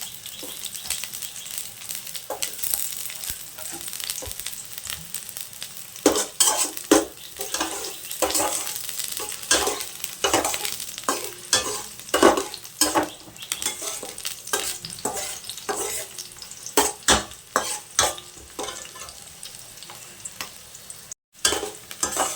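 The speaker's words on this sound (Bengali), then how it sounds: "এখানে পেঁয়াজ কুচিটা আমি দিয়ে দিলাম। পেঁয়াজ কুচিটা হালকা করে লাল করে নেব নেড়ে।" Chopped onion frying in hot oil in a pan, a steady sizzle broken by repeated scraping stirs of a spatula, close and moderately loud with no talking.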